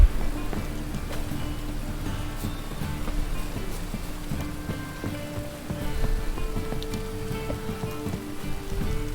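Steady rain patters and hisses across the whole stretch in The Witcher 3: Wild Hunt, with a low droning hum and faint tonal game sounds layered beneath it.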